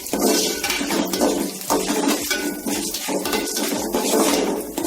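Lemon rice tempering with urad dal is stirred in a pan. Close, rhythmic scraping strokes repeat about twice a second against a steady hiss.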